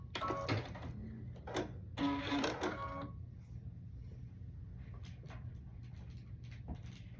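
A sewing machine stitches together three quilt block pieces for a Sunbonnet Sue block, running in short bursts of mechanical whirring over the first three seconds, then giving way to quieter handling noises.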